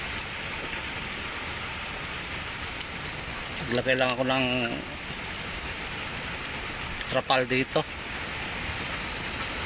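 Light drizzle and strong typhoon wind sweep through a mangrove area in a steady, dense wash of noise, with someone speaking briefly twice over it.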